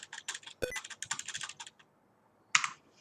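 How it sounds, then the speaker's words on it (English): Rapid clicky typing on a GMMK full-size mechanical keyboard with rattly stabilizers, a dense burst of keystrokes including a sharp rattle, a pause, then a final loud cluster of clacks, close and alone. "The stabilizers are still rattly, as you can hear"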